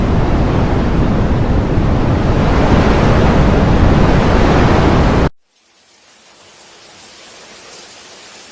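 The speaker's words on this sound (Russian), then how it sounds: "Дует ветер." Strong wind blows in a loud, continuous roaring gust for about five seconds, then cuts off abruptly to a much quieter, faint airy hiss.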